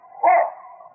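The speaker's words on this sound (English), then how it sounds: "Then he stopped, sniffing the ground and barking excitedly." A single short, excited dog bark rings out close and clear as a radio drama sound effect, trailing into a soft whine.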